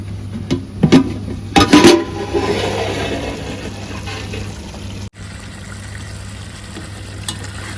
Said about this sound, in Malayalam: നല്ല മഴയാണ് ഒരു രക്ഷയില്ലാത്ത മഴയാണ്